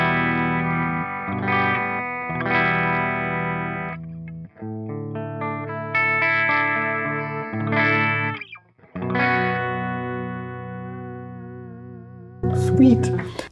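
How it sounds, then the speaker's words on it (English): Sustained electric guitar chords ring out through a BluGuitar Amp1 Mercury on the clean channel, all knobs at noon, with a warm, fairly clean tone, several strummed phrases fading between them. "We start with the clean channel with all the knobs to noon."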